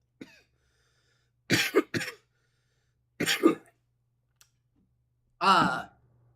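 Three separate bouts of coughing from one person close by, each a short harsh burst or two, with quiet pauses between them.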